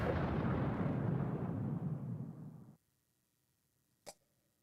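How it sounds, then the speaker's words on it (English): Artillery bombardment in the Stalingrad strategy game Cauldrons of War, heard as a loud rolling rumble of shellfire that fades out abruptly after a few seconds, followed by silence and a single short pop. "So another artillery bombardment here."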